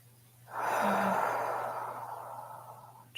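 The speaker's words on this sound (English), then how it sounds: "So we're going to inhale, exhale." A single slow, deep breath drawn in and let out through the mouth, close and soft, swelling and then fading away gradually over a few seconds.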